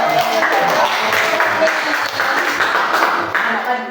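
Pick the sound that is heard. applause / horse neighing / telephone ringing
applause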